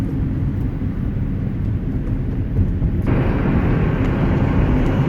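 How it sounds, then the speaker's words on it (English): A manual car cruises on the freeway in fifth gear at about 70, giving a steady, loud, broadband road and engine roar from inside the cabin that swells slightly partway through. "Now you can see I'm driving on the freeway."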